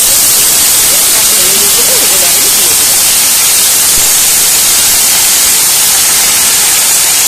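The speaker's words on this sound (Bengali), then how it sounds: "এবার রসুনটা দিয়ে আর একবার ভালো করে ভেজে নিচ্ছি।" Crushed garlic frying in a hot pan makes a loud, unbroken, dense hiss of sizzling oil. It stays steady from start to finish with no clear breaks.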